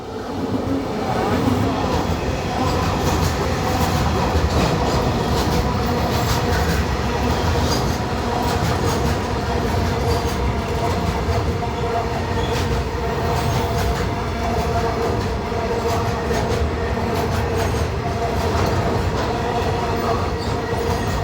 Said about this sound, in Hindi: पे अपनी ट्रेन की क्रॉसिंग हो रही है भाई गुड्स ट्रेन के साथ